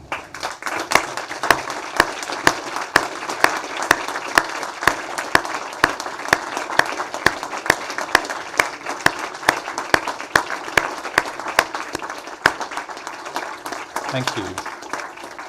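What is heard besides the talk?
diplomates standing and applauding their supporters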